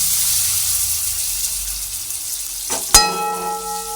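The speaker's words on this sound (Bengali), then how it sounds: "টমেটো দিলাম একসঙ্গে সব ভেজে নিচ্ছি" Tomatoes frying with ginger and spices in a pan for a gram-flour fritter curry, a steady close sizzle that briefly flares with a clatter near the end.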